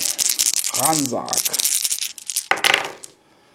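Dice clatter and rattle against a hard tabletop in quick bursts, with a voice briefly speaking between the rolls.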